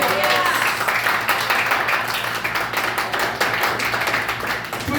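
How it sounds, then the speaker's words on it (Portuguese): Church congregation applauding together, a dense, steady wash of many hands clapping at close range that holds for the whole stretch with no pauses. "Você pode aplaudir o Senhor?"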